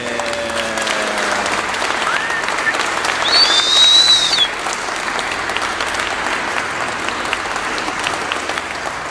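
Wedding guests applaud the newly married couple, a loud, steady burst of clapping from a crowd that swells briefly in the middle and carries on to the end.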